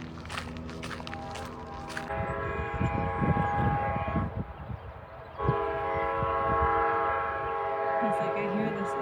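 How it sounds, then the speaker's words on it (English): A train passes near a salt marsh nature park in Carpinteria, its long sustained horn blasts sounding loud and close over the steady rumble and clatter of rail cars, with a few footsteps nearby. "Here comes the train."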